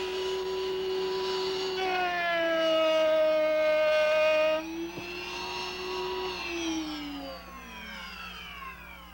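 Power saw cutting a dado into a scrap wood shelf piece, a loud motor whine rising steadily in pitch as it spins up, then dropping and winding down after a sharp break midway.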